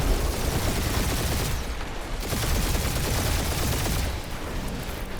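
Turret gunfire rattles through a space dogfight in the Guardians of the Galaxy video game, loud continuous bursts of shots and blasts with brief dips in intensity.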